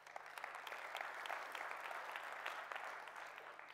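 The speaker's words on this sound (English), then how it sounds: "Another big round of applause for Martijn Wisse" Applause from a summit audience greets Martijn Wisse, director of the Delft Biorobotics Laboratory, a fairly faint but steady wash of many hands clapping that fills the whole stretch without voices.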